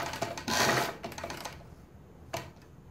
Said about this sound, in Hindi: हम यहाँ पर एक सिलाई लगा लेंगे सीधी